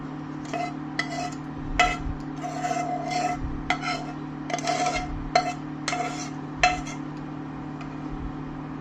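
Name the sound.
stirring gravy into mixed vegetables in a pan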